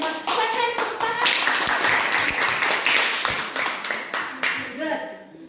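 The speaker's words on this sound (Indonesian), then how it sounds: "Oke, tepuk tangan." A class of seventh-grade students applauds in a classroom, a dense burst of hand clapping lasting several seconds with voices mixed in, fading out at the end.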